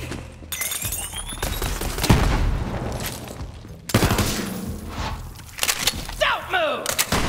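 Grenade blast in Borderlands 3 amid a chaotic firefight: heavy thudding explosions and crackling gunfire burst close and loud, with debris-like clatter, shouted voices and whizzing effects mixed in.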